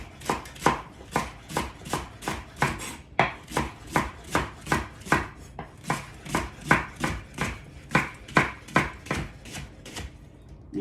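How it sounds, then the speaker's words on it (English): A knife roughly chopping a leek on a cutting board for chicken orzo soup, about two dozen sharp, close thuds in a fairly steady rhythm with brief pauses, no voices. "So that is the leek. So we're just gonna kind of roughly chop this."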